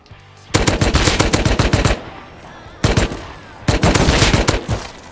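AK rifle firing in the Rust video game, with three loud, close bursts of rapid automatic shots separated by short pauses.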